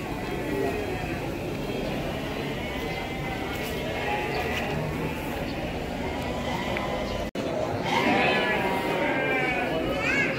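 Garut sheep bleat repeatedly among a busy livestock market crowd at Pasar Andir in Bayongbong, Garut, their calls mixing with constant background chatter and people talking nearby.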